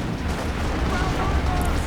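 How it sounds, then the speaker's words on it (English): A Puma armored car's 50mm cannon fires a single shot in a World War II strategy video game, a dense booming blast amid ongoing battle noise with a voice talking over it. "Puma fires off a nice shot right there, killing some poor Yank with his 50mm cannon."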